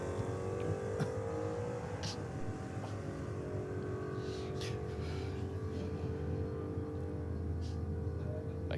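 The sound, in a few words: Holden Torana A9X race car engine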